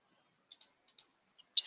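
A computer mouse clicks on a screen tile, a few sharp, close, isolated clicks spaced across a quiet moment.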